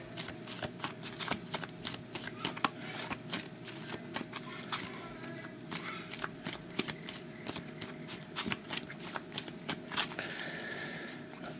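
A red deck of team cards for a random draw is shuffled by hand, giving a long run of rapid, crisp riffling flutters and slaps close up, with no talking.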